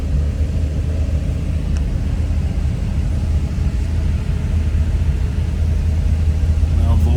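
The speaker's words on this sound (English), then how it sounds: "It's a little grumpy on first cold start, but man, that motor has amazing oil pressure for a stock oil pump." A turbocharged LS engine rumbles steadily at idle after a cold start, a deep, continuous low drone heard up close with no talk.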